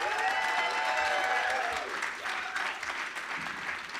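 A crowd cheers and applauds at a startup showcase, with sustained clapping and high whoops and shouts, strongest at first and easing slightly toward the end.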